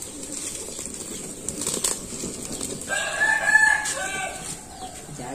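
Birds around a house in rural Vietnam, with a rooster crowing and chickens clucking over a steady noisy outdoor background, the crow rising loudly about midway.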